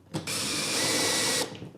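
A bigger drill bit bores into an alloy surface of a fire contact sword, a steady loud whine lasting over a second with a short start and a tapering stop, no voices.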